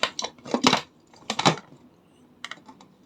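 A pressure cooker of crabs is opened, producing a cluster of sharp metallic clinks and clatters in short bursts, with a fainter rattle near the end.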